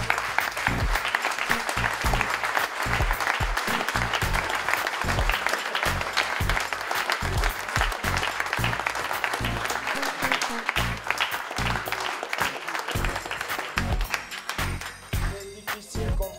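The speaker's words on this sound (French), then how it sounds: "on félicite et on applaudit le runner-up" An audience at a competition event applauds the runner-up, sustained clapping with audible individual hand claps and low thumping beats underneath, continuing for over fifteen seconds before thinning out toward the end.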